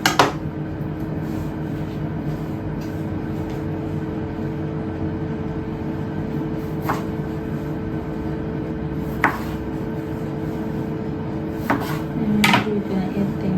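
A kitchen knife halves red and yellow cherry tomatoes for a green salad with warm bacon dressing, giving a few sparse, sharp cuts over a steady low background hum.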